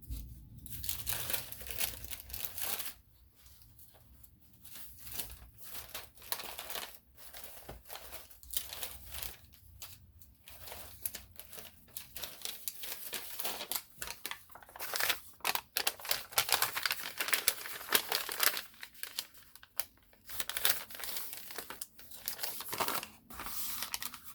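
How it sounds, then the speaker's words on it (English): Sheets of paper being handled and crinkled while altering a composition book, close, irregular bursts of crackling, rustling and crumpling with short quiet gaps between them, no talking. "put some sheets of paper in here"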